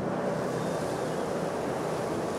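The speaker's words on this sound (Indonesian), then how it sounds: "Angin terasa kencang." Strong wind roars steadily across open rice fields near Sembalun village on Mount Rinjani, a dense unbroken rush with no pauses or other sounds.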